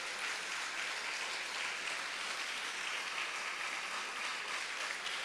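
Audience applause at a Spanish-language political talk about housing, education and literacy, a dense, even wash of many hands clapping that holds steady throughout, alone with no voices over it.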